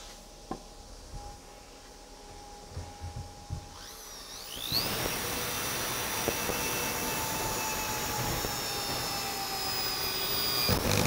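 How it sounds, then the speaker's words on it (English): A power tool spins up and drives a lag screw into a pilot hole in a log wall, a loud sustained whining motor that starts abruptly partway in after a few quiet knocks and runs steadily to the end. "You want to go ahead and sink it down in that pilot hole, making sure that lag screw doesn't push up the log above it afterwards."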